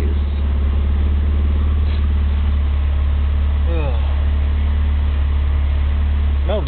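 An E85-converted 1988 Dodge Omni engine idles steadily after a cold start, a constant low drone running throughout, with someone talking over it.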